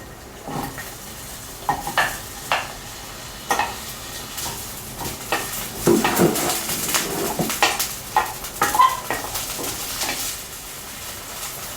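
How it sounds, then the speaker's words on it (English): Ginger, garlic and the white parts of scallion stir-fry in hot oil in a pan, with a steady sizzle under repeated sharp scrapes and taps of a spatula, close and moderately loud, with no voices. "Heat some oil in the pan. Add the ginger, garlic, and the white section"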